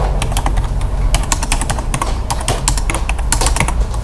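Rapid, uneven keystrokes clatter on a computer keyboard as data is entered into an Excel spreadsheet, close and loud, with brief pauses between bursts and no talking.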